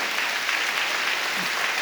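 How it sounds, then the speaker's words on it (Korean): A church congregation applauding during Sunday worship to welcome foreign guests, a dense, steady burst of clapping from many hands. "예, 여러분 그 박수로 환영하십시오."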